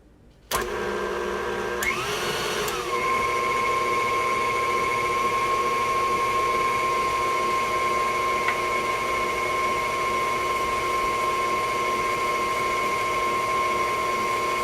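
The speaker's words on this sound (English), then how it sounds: "cake batter is really thick. So you definitely have to have a mixer." Electric mixer starts up and runs steadily, a constant whirring drone as it beats thick pound cake batter, close and loud throughout with no talking.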